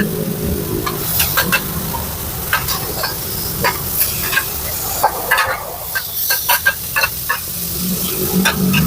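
Pad thai and fried shellfish are stir-fried at a Thai street food stall, a loud continuous sizzle with rhythmic scraping and clanking of a spatula on the pan, close up, with no talk.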